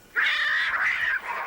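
A cat screeches in a sustained, wavering wail, fairly loud and alone, then trails off into a shorter, fainter cry.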